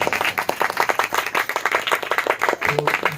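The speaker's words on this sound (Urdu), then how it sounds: "تو میں چاہوں گا اس سیریل کو ہم زوردار تالیوں کے ساتھ ویلکم کریں گے" A church congregation at an Urdu-Hindi sermon claps loudly to welcome the sermon series, a dense, steady burst of many hands applauding throughout.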